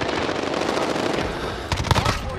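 A nuke detonates in an online shooter game at a superstore map, a sustained dense crackling roar of blasts with a few sharper bangs near the end, loud and continuous.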